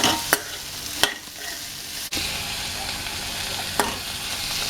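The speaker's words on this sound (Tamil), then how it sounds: "பூண்டு அதையும் போட்டு நல்லா ஒரு பரட்டிடணும்" Garlic cloves sizzle steadily in a hot pan for fish thokku while a spoon stirs and scrapes, giving a few sharp clinks against the pan, close up with no talking.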